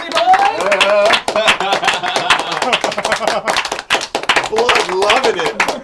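An audience gives a standing ovation at the Easy Allies Hall of Greats induction, clapping steadily while someone speaks loudly over the applause.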